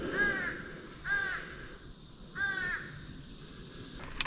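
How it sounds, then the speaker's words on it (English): A cranky crow that hangs around the long side of a trail calls three times, harsh drawn-out caws spaced about a second apart, fairly close and clear over a quiet outdoor background. "I mentioned a ornery crow that's always here about halfway through the larger side"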